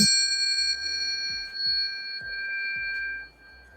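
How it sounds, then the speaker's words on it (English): A small chime rings once with a clear, sustained metallic tone that slowly decays over several seconds, heard alone in a quiet room. "I'm going to clear the air, clear the frequency with a little chime."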